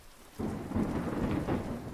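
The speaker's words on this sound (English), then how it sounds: "the rain sounds fitted perfectly with that" Steady rain with a deep roll of thunder swelling in after a quiet start, then rumbling on under the downpour, heard alone with no voices.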